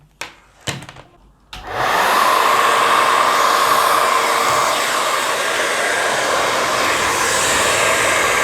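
A hair dryer switches on after a few clicks and runs with a steady, loud, breathy whoosh and a faint whine.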